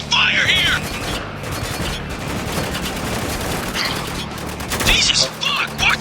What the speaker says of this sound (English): we're taking some heavy fire here!